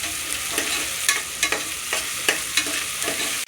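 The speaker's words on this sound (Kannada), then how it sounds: "ಈರುಳ್ಳಿ ಸ್ವಲ್ಪ, ಅವರೆಕಾಳು ಸ್ವಲ್ಪ ಎಲ್ಲ ಹಸಿ ವಾಸನೆ ಹೋಗಲಿ ಅಂತ ಚೆನ್ನಾಗಿ ಫ್ರೈ ಮಾಡ್ಕೊತಾರೆ" Onions and field beans fry in hot oil with a constant close sizzle, punctuated by quick scraping stirs every half second or so, and no speech.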